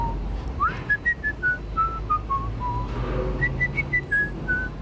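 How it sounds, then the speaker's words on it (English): A person whistles a simple happy tune alone, a string of clear sustained notes in two phrases separated by a short pause, close and fairly loud over a low background hum. "whistle it again"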